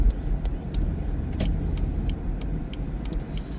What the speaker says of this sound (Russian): За мной машина едет.